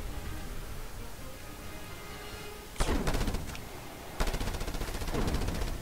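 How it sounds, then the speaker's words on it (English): Turret or minigun fire in the video game Just Cause 2 erupts in two loud, rapid bursts after a stretch of quiet ambient noise, each one a fast rattling stream of shots. "Is there like a minigun or something up there?"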